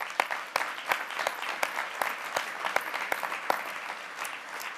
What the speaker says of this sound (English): So a huge round of applause to all of you.